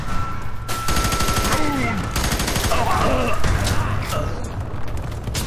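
Rapid bursts of gunfire from the video game F.E.A.R. 3 crackle loudly and almost without pause, with game sounds and a voice breaking through at times.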